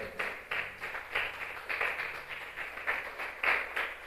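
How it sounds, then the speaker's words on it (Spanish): Church congregation applauding during a Spanish-language sermon, a soft, steady patter of many hands with regular swells, somewhat distant and alone without talk. "¿Puede dar un aplauso a la palabra de Dios?"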